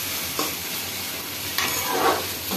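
Browning onions for egg curry sizzle quietly in a pan, with a couple of soft scraping stirs of a spoon over the steady hiss, near and fairly low in level.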